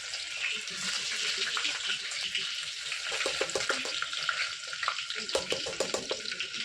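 Onion fries in a pan over a wood-fired clay stove, giving a loud, continuous sizzle with crackling bursts that thicken toward the end as it is stirred.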